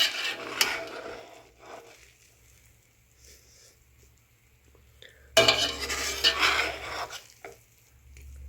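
Chicken yakhni pulao is stirred in a pot, a spoon scraping and clinking against the metal in short bursts, the mixing loudest in one sustained stretch of rice being turned over.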